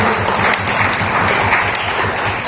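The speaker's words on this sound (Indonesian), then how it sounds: "Aplaus untuk Meranti lah" A crowd at a regional radio organisation gathering in Kepulauan Meranti gives loud, dense, sustained applause, a close and steady wash of clapping with no talk.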